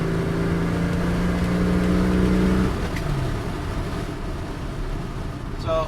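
A car with a Sniper 2300 fuel-injection throttle body fitted with a venturi restrictor plate, cruising near 45 mph at full throttle: a loud, steady engine drone with a sustained tone that drops away after about three seconds into rougher road rumble.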